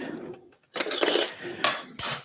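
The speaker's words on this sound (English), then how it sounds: "we whisk it up quickly, breaking the yolks" Clattering metal-on-bowl strokes from eggs being whisked in a mixing bowl for simple pancake batter, coming in three short bursts with quiet gaps between, close and fairly loud.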